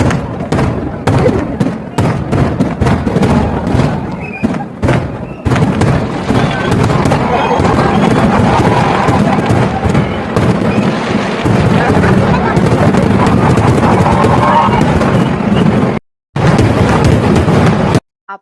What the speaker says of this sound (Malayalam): അങ്ങനെ നമ്മുടെ വെടിക്കെട്ട് തുടങ്ങിയിട്ടാ